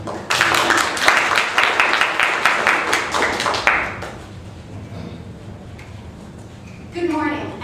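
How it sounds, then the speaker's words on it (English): Audience applause fills a competition hall, dense clapping for several seconds that fades out, followed by a speaker beginning to talk. "Huge round of applause for Shira."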